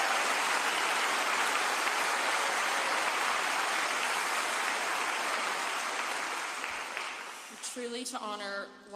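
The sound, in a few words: audience applause at vigil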